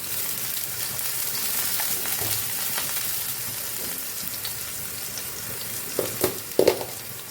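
Spices frying in a pan with a pinch of salt, for a pointed gourd curry, keep up a steady crackling sizzle. A few sharp stirring clatters come near the end.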